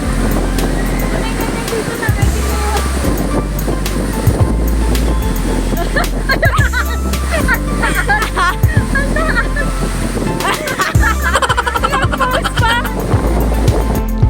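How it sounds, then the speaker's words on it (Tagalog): A large wave pool at the Water World Cebu resort churns with a steady loud wash of surf and rushing water, wind buffeting the microphone and people's voices faintly mixed into the roar throughout. "At ito naman yung sobrang laking wave pool nila sa likod."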